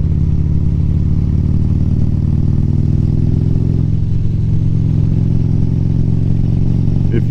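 A Harley-Davidson Road Glide with the 103 engine idles loudly and steadily up close, a deep rumbling drone with a fine mechanical clatter throughout.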